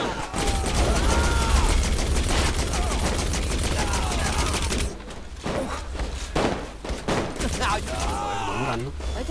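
Dense, continuous rapid gunfire in Saints Row IV, loud and close, with a steady rattle that thins into scattered shots and impacts, and voices talking over it.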